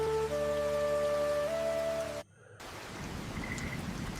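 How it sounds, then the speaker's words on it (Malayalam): Heavy rain pouring over a home yard, heard as a steady dense hiss that follows a humming tonal sound and a brief dropout. "ഇന്നും നല്ല മഴയാണ്."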